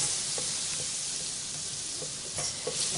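Butter melting in a hot pan of collard greens gives a steady, close sizzle and hiss, with faint stirring clicks scattered through.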